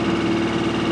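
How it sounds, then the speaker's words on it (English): A Chevy Aveo engine running with no oil at roughly 2,000 rpm gives a steady, close mechanical drone with a faint repetitive knock riding under it, with no talking. "it's already started knocking"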